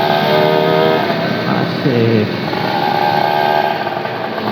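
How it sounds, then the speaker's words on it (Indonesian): An old Yamaha V80 motorcycle engine drones steadily while being ridden, a loud close buzzing with slight pitch shifts, and a voice briefly speaks over it. "Ya seseru naik motor tua coy."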